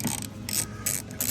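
A ratchet works T20 screws loose from a RAM truck's door latch, a few quick close clicking bursts of the pawl with no voices.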